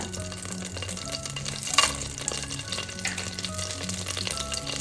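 Cinnamon sticks, cloves and cardamom pods sizzling in hot butter in a pan, a steady close crackling fry with light stirring scrapes.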